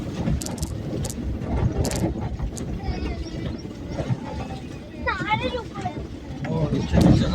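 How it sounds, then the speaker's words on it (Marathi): An auto rickshaw engine droning as it drives downhill on a road near a dam, with continuous motor rumble and passing noises while people talk nearby. "हो रिक्षा खाली जाते"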